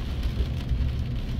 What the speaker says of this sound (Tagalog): Tapos yung ulan dito guys, napakalamig.